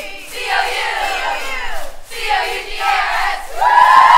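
A high school cheer team from GRCC chants a spelled-out Cougars cheer at a West Michigan football game, loud rhythmic group voices in bursts with brief pauses, close and energetic.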